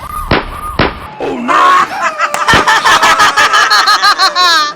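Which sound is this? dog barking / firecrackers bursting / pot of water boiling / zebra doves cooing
firecrackers bursting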